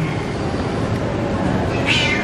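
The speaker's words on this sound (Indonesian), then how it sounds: "Nah, ini salah satu jenis kucing." A British Shorthair cat lets out a single short meow near the end, heard over a loud, steady background noise.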